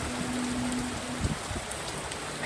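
Rain falls in stormy weather at a Club Med resort in Turks and Caicos, a steady, faint hiss of drops on surfaces with a brief low tone and no speech.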